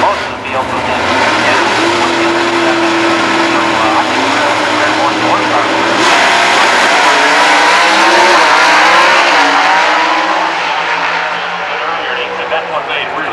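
Drag racing cars run side by side down the strip at a 1995 event, loud and continuous engine noise with shifting tones that rises and holds throughout, with an announcer talking over it.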